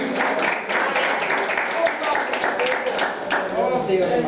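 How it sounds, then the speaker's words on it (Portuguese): A church congregation claps during an evangelical service, a continuous crowd of hands beating under a preacher's voice and murmuring from the room. "Pode aplaudir porque Jesus é digno, e ele é maravilhoso aplaudir aqui"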